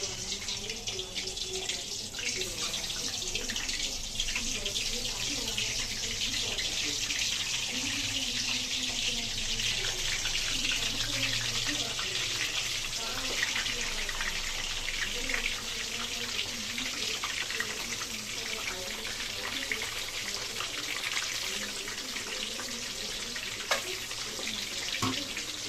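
Eggs frying lightly in hot oil in a kadai for egg biryani, a continuous bright, hissing sizzle that holds steady and fairly loud, with occasional small pops.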